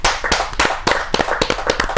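An audience at a Hindi poetry gathering (kavi sammelan) claps loudly and steadily, a dense burst of hand claps with a quick rhythm and no talking.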